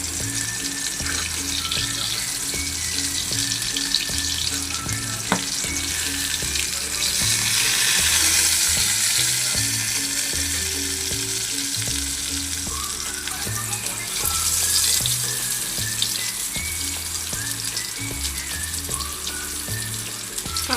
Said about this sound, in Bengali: এরকম এখানে পটলগুলো ভাজে দিয়ে দিয়েছি